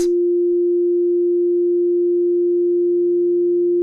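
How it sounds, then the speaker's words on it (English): A steady, pure low synthesized tone from a Waves LoAIR plugin holds unchanging and loud, with a fainter deeper sub-harmonic tone beneath it, no other sounds. "We can see the sub-harmonic being generated there."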